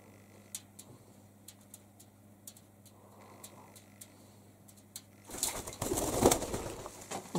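A pigeon indoors flaps its wings and flies up: faint ticking clicks over a low hum, then a sudden loud burst of rapid wingbeats near the end, with no voices.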